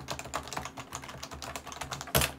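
Quick bursts of typing on the keyboard made for the new iPad Pro: a steady run of light, close key clicks with one louder clack near the end, no talking.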